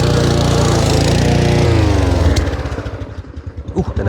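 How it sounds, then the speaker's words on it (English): A lawn mower scalping a bent grass lawn roars at full throttle, then its engine bogs and sputters with a sharp backfire pop before dropping into an uneven, chugging slowdown. "Oh, and a backfire."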